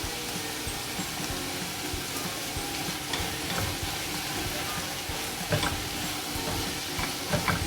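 Sliced onions sauté with turmeric powder in a pan, a dense steady frying hiss broken by frequent scraping stirs and a few louder knocks of the spatula, close and without speech.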